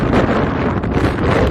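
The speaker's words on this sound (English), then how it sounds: "sorry about the wind, it's really windy today" Strong wind buffeting the microphone at a dried-up reservoir in Wyoming, a constant loud rumbling roar with no pauses.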